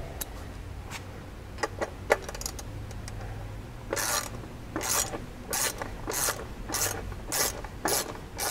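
Bolts being snugged up on an aluminum skid plate for a 2019 Can-Am Maverick Trail, heard as a close series of sharp ratcheting rasps at a steady rhythm after scattered small clinks, with no talking.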